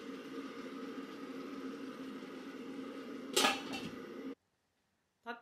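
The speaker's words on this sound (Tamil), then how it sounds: "மிக்ஸ் பண்ணி ஒரு நிமிஷம் மூடி போட்டு விடலாம்." Thick tomato masala being stirred in a pot for chicken biryani, with steady scraping and clatter, a brief louder clank of a lid settling on, then near silence and one last soft knock.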